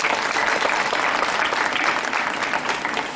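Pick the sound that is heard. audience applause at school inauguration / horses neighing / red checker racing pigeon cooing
audience applause at school inauguration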